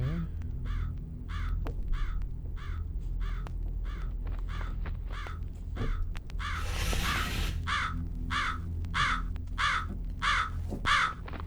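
Crow cawing in the PC horror game Jisatsu, a long series of harsh, evenly spaced caws over a low ambient drone, with a brief burst of noise midway.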